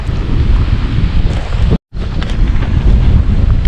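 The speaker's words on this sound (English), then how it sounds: "Ooh, it is quite breezy." Strong wind buffets a tent at a campsite in Sica Hollow State Park, South Dakota, producing a loud, continuous low roar of gusts against the microphone, broken by one brief dropout.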